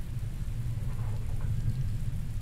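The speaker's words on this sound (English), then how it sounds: "It's rainy." Steady rain with a low, rumbling wash underneath, a continuous, moderately soft hiss with no talk over it.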